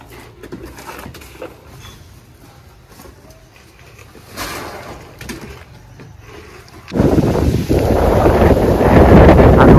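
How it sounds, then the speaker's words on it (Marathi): Strong wind blows through trees around a house under construction in rural Konkan, a low, steady rumble that surges suddenly into loud, buffeting gusts battering the microphone. "वारा बघा का सुटलाय."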